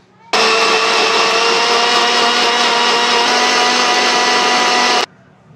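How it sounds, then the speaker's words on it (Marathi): A mixer grinder purees a green pea soup mixture with water into a fine paste, a loud steady whine that starts abruptly, holds for nearly five seconds with no talk, then cuts off. "मिश्रण आता आपण सगळं मिक्सरमध्ये काढून घेऊया."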